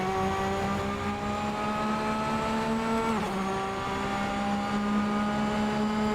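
Porsche sports car engine revving hard through the gears, a loud sustained rising whine with a quick upshift dip near the middle before climbing again, heard from inside the car.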